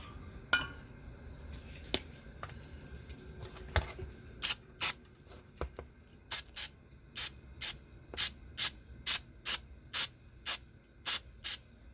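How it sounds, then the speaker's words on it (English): Short bursts of carbon choke cleaner spray hiss out in a quick, regular series onto a No4 Mk1 rifle, preceded by a few scattered clicks and taps. "Little carbon choke spray in there."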